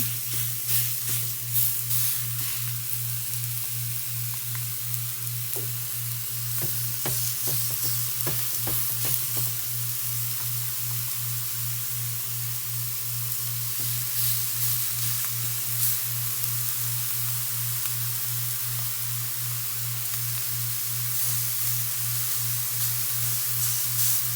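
Homemade Salisbury steak patties fry in a pan with a constant loud sizzle and hiss up close. Bursts of crackling and spatula scraping come and go over a steady low hum.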